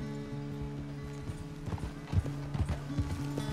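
Horse hooves clip-clop at a steady walking pace in the video game Red Dead Redemption 2, over a low droning background, the footfalls growing slightly louder and closer toward the end.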